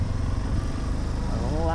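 Yamaha Ténéré 250 motorcycle engine running close by with a steady mid-pitched drone, about to ride into soft sand at a lagoon, a voice talking over it.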